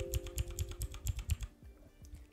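Fast, close typing on a mechanical keyboard with blue switches: a steady run of loud, crisp clicks for about a second and a half, then a few scattered softer keystrokes.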